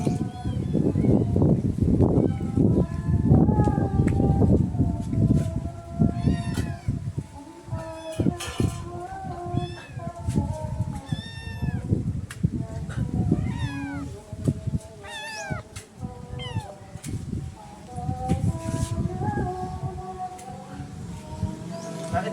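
A litter of twelve kittens meowing repeatedly, high thin cries overlapping close by over a steady background, with a person speaking at times.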